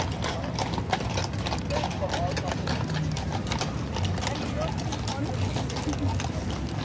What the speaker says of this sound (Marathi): हे पोलीस आहेत जे घोड्यावरती राऊंड मारतात.